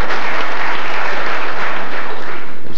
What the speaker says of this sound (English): There was just a little bit of applause from the other table just as he was delivering the cue.